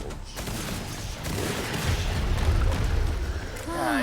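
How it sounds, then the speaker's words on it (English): Explosions and gunfire from the zombie shooter game Killing Floor 2 roar in a dense, continuous wash of booms and bursts over about four seconds, loud and close, with a brief tonal whoosh at the end. "I think it's mostly just the explosion actually going off"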